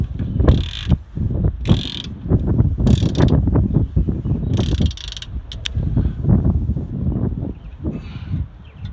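An open-ended ratchet wrench with interchangeable heads works in short bursts, quick rasping clicks repeating in several strokes over a low, busy mechanical clatter, close and fairly loud.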